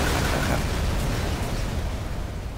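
A dense, roaring video game explosion in Black Mesa fills the whole stretch, a broad rumbling burst that slowly fades toward the end.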